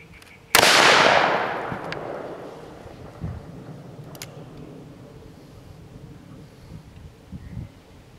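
A single loud gunshot from a .44 Magnum Smith & Wesson revolver at an outdoor range, a sharp close blast near the start with a long rumbling decay, followed by faint background sounds.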